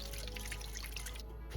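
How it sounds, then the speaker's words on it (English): Water poured into an Instant Pot holding quartered sweet potatoes, a steady close splashing stream that runs continuously before a brief lull near the end. "Then add them to your Instant Pot and pour in 2 cups of water."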